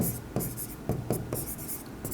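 Pen writing out an accounting solution by hand on paper, a series of short scratchy strokes in a loose rhythm, close and fairly quiet, with a faint voice at times beneath.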